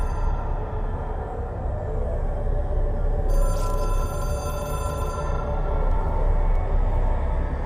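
A telephone rings in a video game, a loud trilling bell that starts partway through and repeats over a dense, steady background rumble.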